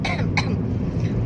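A forced, deliberately exaggerated cough, two short throaty bursts near the start over a steady low background hum, followed by quieter breathy sounds.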